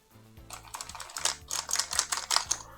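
A small brush scrubs dirt from between computer keyboard keys, making quick, soft scratchy clicks in a steady uneven patter, close and fairly quiet with no talking.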